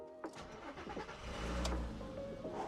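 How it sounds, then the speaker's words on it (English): An Audi V6 engine cranks and fires into life after sitting abandoned, with a brief starter whir, then a rising catch and rumbling settle into idle, heard close and fairly quiet. "start this bad boy up"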